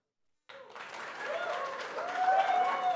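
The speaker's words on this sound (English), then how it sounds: "If you think Kollegio should be a winner, please clap" A forum audience claps for the startup Kollegio at a pitch showcase: applause begins suddenly after silence and builds steadily, mixed with cheering voices and whoops, moderately distant.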